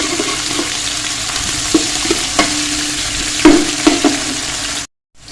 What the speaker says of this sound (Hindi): और इसको भी हमने प्याज के साथ ही भूनना है।